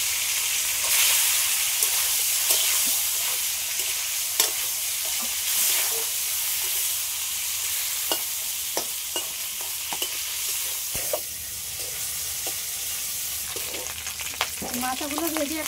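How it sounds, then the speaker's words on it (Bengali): Fish heads fry in hot oil with turmeric and salt, a steady close sizzle running throughout, broken by scattered crackles and spatters and occasional scraping, with a brief burst of hissing near the end. "তেলের মধ্যে এবার হলুদ দিয়ে দিচ্ছি, লবণ, মাছের মাথাগুলো দিয়ে দেবো"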